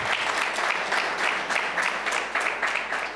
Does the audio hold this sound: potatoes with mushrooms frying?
no